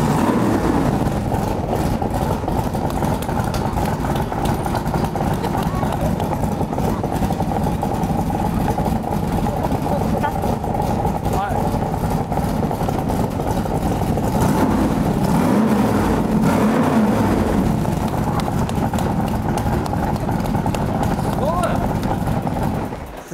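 The 7000cc engine of an AC Cobra runs with a steady, deep, throaty rumble that fills the scene throughout, while people talk over it.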